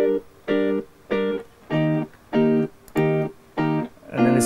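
Layered reggae guitars with compression and reverb play short off-beat chord stabs, eight evenly spaced chops at a steady rhythm, clear and alone.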